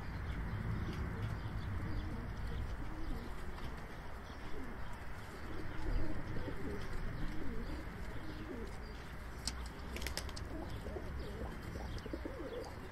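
Sivas game pigeons coo in soft, repeated rolling calls from close by, layered over a steady hiss of background noise with occasional chirps.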